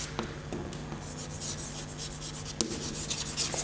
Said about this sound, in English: Metallurgy, I'll write it here.